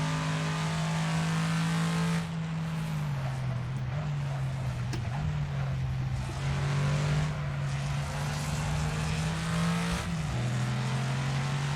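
Ford Mustang race car at New Jersey Motorsports Park in Assetto Corsa, a steady loud engine drone that dips briefly at gear changes and holds a constant tone throughout.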